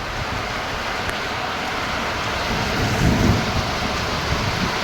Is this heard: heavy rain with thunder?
yes